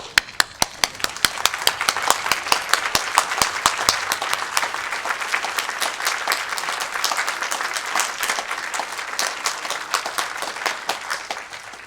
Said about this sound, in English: Can we stand and give our special guests a round of applause?